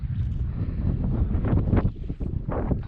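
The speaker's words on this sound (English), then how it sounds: "The wind is picking up a little." Wind gusts across a frosty mountain summit on the Carter and Wildcat ridge, a loud, steady rushing roar buffeting the microphone, with no voices.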